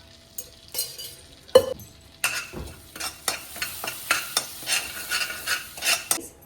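Butter with turmeric and chili powder sizzles in a pan while a spoon stirs it, giving a soft sizzle under loud, regular scraping strokes that repeat about twice a second.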